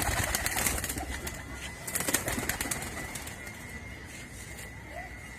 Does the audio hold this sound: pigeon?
yes